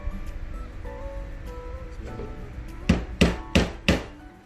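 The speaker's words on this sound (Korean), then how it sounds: "망치질을 하고 있으니까" Hammer blows driving nails into wood while building a small wooden tool box, four sharp, evenly spaced strikes ringing out close and loud near the end after a quiet stretch, with no talking.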